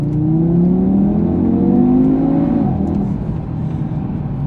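A 2019 Audi TT RS engine revs up steadily, its pitch rising over a couple of seconds before dropping back to a lower rumble, loud and close.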